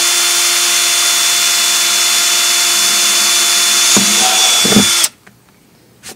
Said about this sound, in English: start the drilling